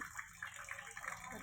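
Rainwater gushes off a rooftop in a steady, faint rushing flow outdoors during a downpour, continuous throughout, with a voice faintly underneath.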